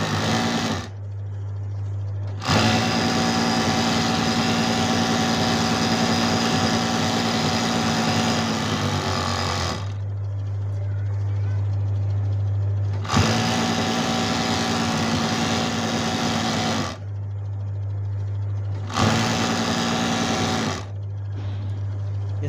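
A sewing machine stitches a wire pico edge on fabric, a loud steady mechanical hum that runs for several seconds at a time, stopping briefly three times between runs.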